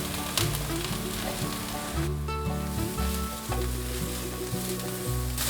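Carrots stir-fried over medium heat with shiitake and lion's mane mushrooms sizzle steadily up close, with stirring scrapes and soft instrumental music playing over the cooking.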